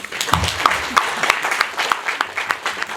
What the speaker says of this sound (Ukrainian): Будь ласка, оплески їм.